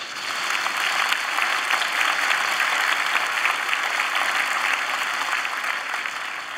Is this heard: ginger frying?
no